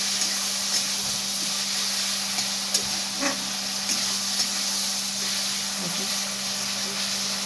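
Chilli chicken sizzles steadily in a hot pan as it is stirred and fried, a constant hiss with faint scrapes and clinks of the utensil.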